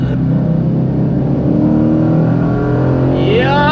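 Supercharged 2013 Ford Mustang GT V8 revving hard and steadily, a loud continuous engine roar with rising pitch near the end as the revs climb.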